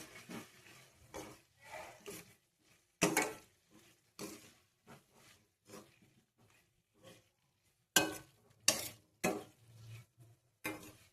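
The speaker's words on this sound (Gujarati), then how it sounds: "સારી રીતે મિક્સ કરી દઈશું." A utensil stirs elephant foot yam curry in oil in a pan with quiet, irregular scrapes and soft knocks. Two sharper clatters stand out, and there are short pauses between strokes.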